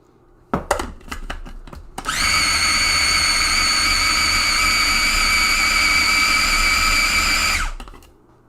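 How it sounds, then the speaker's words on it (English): A blender blitzing basil and mint pesto with garlic: a few clicks and knocks, then a loud steady whirring motor running about five seconds before winding down. "let's give this another blitz"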